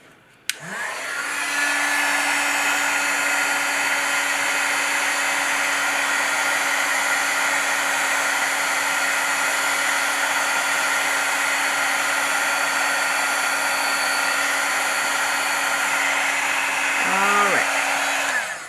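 An embossing heat tool switches on with a click and blows a loud, steady whir for about seventeen seconds while heat-setting a handmade card, then cuts off.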